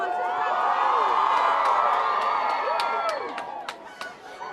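A studio audience cheers and whoops loudly and steadily, with scattered shouts and claps, the noise easing slightly toward the end.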